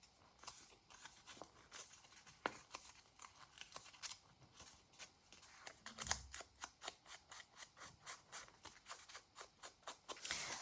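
Scissors snip around the edges of journal paper in a quiet crafting session, a long run of short crisp cuts that quicken into a steady close rhythm toward the end, with no voices.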